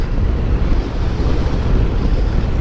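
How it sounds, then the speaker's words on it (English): Strong gusty wind buffets the microphone on an evening motorcycle ride, a loud continuous low rumble and roar with no speech. "The wind is blustering."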